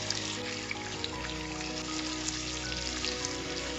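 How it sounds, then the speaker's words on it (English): Chopped ginger and garlic sautéing in a pan for a spinach egg stew, a soft, steady sizzle with faint scattered pops, quiet and continuous beneath a low hum. "I'm gonna saute this 1 to 2 minutes"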